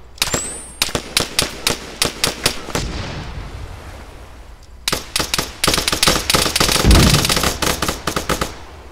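HE artillery rounds fired in the Arma 3 military shooter. Sharp, rapid cracks and bursts of gunfire go off close and loud, broken by a brief lull, with a deep heavy boom near the end.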